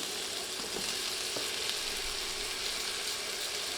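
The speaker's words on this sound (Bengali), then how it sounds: "দুইটা আলু এভাবে কেটে নিয়েছি এখন এগুলো তেলে দিয়ে ভেজে নিচ্ছি" Two cut potatoes fry in hot oil for a cauliflower and fish curry, giving a steady close sizzle with crackling spatter and a few soft stir knocks, no voices over it.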